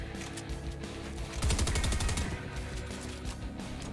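A rapid burst of video game gunfire rattles out in the middle, a quick string of close shots over continuous game background noise.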